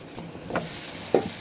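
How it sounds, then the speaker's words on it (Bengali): Soft sizzling of eggplant frying in oil, with a couple of brief stirring clinks, close and fairly quiet. "আমি বেগুনটাকে কিন্তু ভেজে নিচ্ছি, একদম শুকনো শুকনো করবো"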